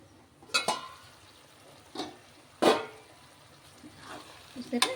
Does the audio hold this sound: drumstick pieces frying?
yes